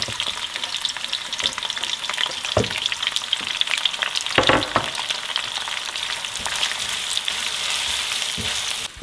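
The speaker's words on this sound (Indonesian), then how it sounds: "Pertama kita goreng bawang bombaynya dulu." Onions sizzle and crackle steadily in a hot pan, with occasional stirring scrapes and louder bursts of frying.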